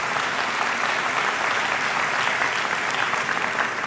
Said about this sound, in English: Let's give your family and friends a really big round of applause for all the support they've been over the time.